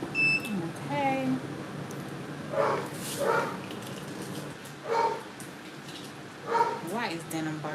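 A dog barks in short bursts, several separate barks spaced across the clip, with someone talking around them over low room noise.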